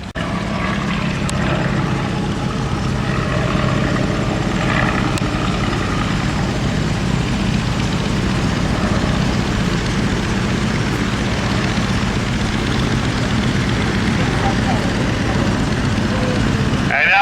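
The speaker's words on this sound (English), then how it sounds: "Oh boy, the Black Baron's got the triplane cranked up now." Engine of a triplane aircraft at full throttle during an air-show dogfight, a loud continuous droning roar with steady propeller buzz that holds at constant volume throughout.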